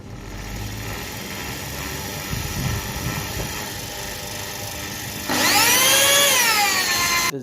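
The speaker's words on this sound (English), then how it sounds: "it's a good idea to prime the oil pump by spinning it clockwise with the drill" A power drill spins the oil pump of a 1996 Toyota RAV4 clockwise to prime it, a low mechanical whir and grind that is steady for several seconds, then a brighter high-pitched whine rises and bends sharply near the end.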